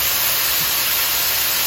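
Chopped onions hit a hot pan and sizzle with a steady, close hiss that holds evenly from start to finish, with no talking.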